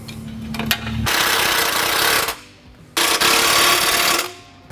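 Fox self-tapping screws are driven into a bracket on a Jeep Gladiator JT with a power driver, in two loud buzzing bursts of about a second and a half each, split by a short pause.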